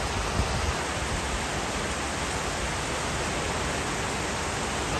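Steady, heavy coastal rain in Ghana roaring evenly with a dense hiss and no breaks or other sounds.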